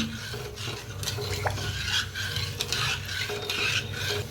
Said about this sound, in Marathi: तर आता हलवून घेऊया।